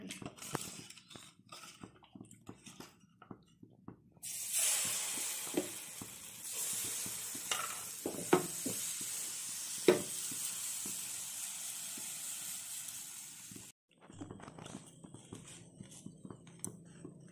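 Spicy thin chakli pitha frying in oil in a pan, a soft continuous sizzle and hiss swelling for several seconds amid light clinks and stirring taps, fairly quiet and close.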